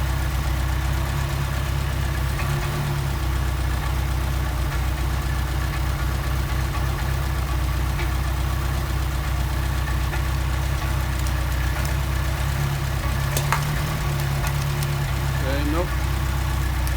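A worn engine idling while the idle screw of a Solex carburetor is adjusted, steady low rumble with faint ticking throughout, someone talking intermittently over it.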